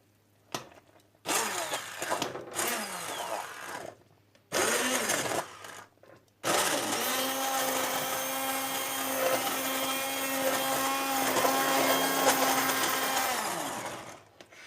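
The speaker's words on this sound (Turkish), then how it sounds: "Blenderdan geçireceğim marmelatımı." A blender pureeing watermelon jam whirs loudly and steadily after a few short starts and stops, grinding continuously before winding down at the end.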